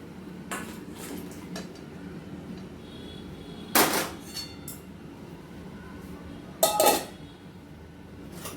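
Boiled jute greens drained from water, metal strainer shaken over a pot: two loud rattling bursts with a few lighter clinks between, against a quiet kitchen background.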